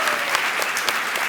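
A studio audience at a talk show claps together in a dense, steady burst of applause, close and loud throughout the short moment.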